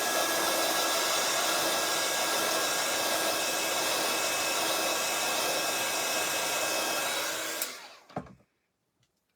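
A hair dryer blows steadily and loudly on stamped mirror card, a constant whooshing roar that winds down and cuts off near the end, leaving a brief clunk and then quiet.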